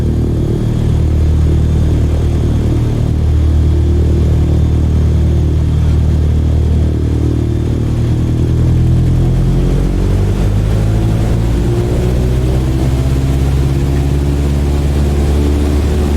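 Cessna 152 engine in Microsoft Flight Simulator 2020 roars loud and constant on takeoff, a droning propeller hum with steady harmonics that shift slightly in pitch as power builds, no talk.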